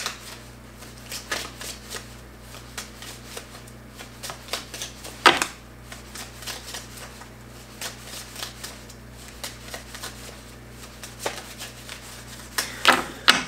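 A deck of tarot cards is shuffled by hand, giving a steady run of close, soft riffling and slapping noises with a couple of sharper snaps, over a low constant hum.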